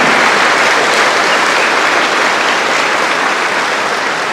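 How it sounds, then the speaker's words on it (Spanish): A church audience applauds for a priest, a loud, dense and steady wash of clapping hands that fills the whole stretch without breaks. "vamos a darle un aplauso al Padre por ese conocimiento que tiene"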